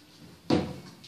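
An Australian Shepherd dog shuts a cupboard door: one close, solid thump of wood knocking shut against a quiet room background, with no talking.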